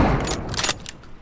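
M24 sniper rifle firing in BGMI, a sharp burst with a quick echoing tail followed by a second, fainter report before fading to quiet.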